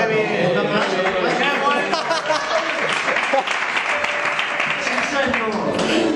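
An audience at a church sermon gives steady, continuous clapping throughout, loud and close, mixed with some cheering and chatter.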